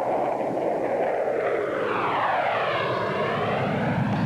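An F-16 jet roaring past during a Thunderbirds air show, a loud, continuous engine howl whose pitch sweeps downward as the aircraft passes and recedes, no talk over it.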